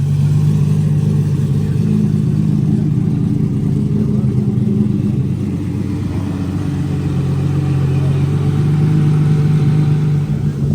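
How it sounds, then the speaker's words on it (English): A Ferrari F50 supercar engine running loud and close, a steady deep mechanical roar with slight rises and dips in revs throughout, heard alone without talk. "The F50 has started up."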